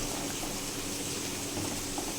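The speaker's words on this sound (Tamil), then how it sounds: "இப்போ பார்த்திங்கன்னா தண்ணி கொதிக்குது" Water boiling in a pot with macaroni, salt and a little oil, a steady continuous bubbling hiss heard close up without talk.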